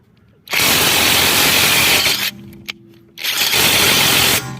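Impact wrench running at full power, two loud, close hammering bursts, the first about two seconds long and the second after a short pause, with a brief mechanical click in the gap.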